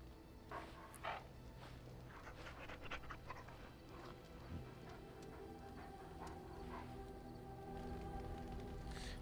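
In Dragon Age: Origins, a dog pants quietly in quick, rhythmic breaths, with soft ambient game sound and no talking.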